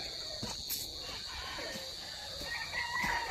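Grey stag roosters crow on a farm, faint and somewhat distant, over a steady background of insect chirping and low ambient noise, with a few brief calls through the short stretch.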